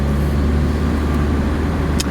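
A 2008 Saab 9-3 Convertible pulls away, its engine giving a loud, steady low rumble with road noise for about two seconds and no voices.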